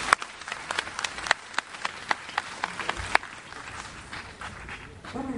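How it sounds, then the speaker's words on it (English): Scattered clapping from an audience at a gathering of water company workers, sparse individual claps spaced unevenly over a few seconds, fairly faint, with a murmur of voices behind. "let's all give a round of applause before I finish"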